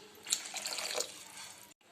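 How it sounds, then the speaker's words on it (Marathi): Water is poured into a simmering fish curry with tamarind in a home kitchen: a soft, brief splashing and trickling for under two seconds, fairly faint. "आता थोडंसं पाणी टाकते"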